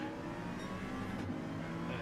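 Race cars on the grid in a racing game pull away at the start of race 2, a dense wash of revving engines filling the clip; continuous and fairly loud, with no clear voices.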